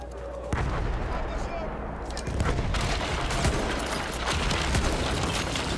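Rapid gunfire and distant explosions from a World War I battlefield in the video game Battlefield 1, dense and continuous, with bursts of fire rolling over a loud, rumbling combat backdrop while someone talks over it.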